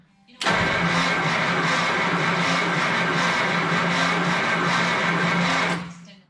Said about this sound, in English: I'll try to find a video clip of one of these turning over 6 volt